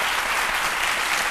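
A French television studio audience applauds steadily, a dense wash of many hands clapping at full strength for the whole moment with no voices over it.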